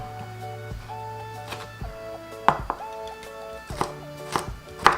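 A knife rapidly and finely julienning onion on a cutting board makes irregular, crisp taps close by, over faint steady background tones.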